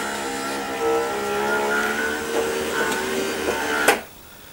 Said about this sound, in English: We're going to get the windows to roll down one more time.